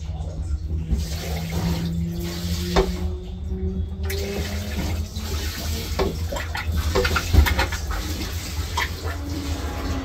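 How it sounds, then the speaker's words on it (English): A portable toilet at an air show flushing, a continuous rushing water wash lasting several seconds, close and fairly loud over a low background rumble. "Of course, this here will flush it."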